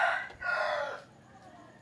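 A rooster of an unusual breed crows close by in two strong, drawn-out bursts, the second longer, followed by a quieter pause with no talking.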